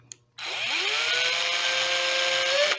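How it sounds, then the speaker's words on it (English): An electric drill fitted with a string-winding bit spins up and runs steadily for about two seconds while winding strings on a guitar, its whine rising in pitch as it speeds up before cutting off abruptly. "Now that will go into my drill like so."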